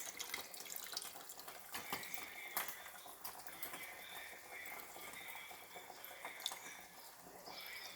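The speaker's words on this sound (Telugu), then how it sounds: "సో చింతపండు పులుసు పోసుకోవాలండి" Tamarind juice pours into a pot of bottle gourd and fish curry on a gas stove turned to low, giving a steady watery splash and trickle at close range with faint clinks of cookware.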